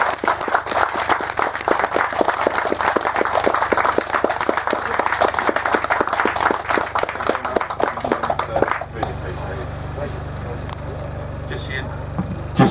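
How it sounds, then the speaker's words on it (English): A live audience at a Q&A event with John Wardley about The Smiler claps in a dense, steady round of applause for about nine seconds, then the clapping abruptly thins into a quieter murmur of room noise. "Ladies and gents, I think we need a great round of applause."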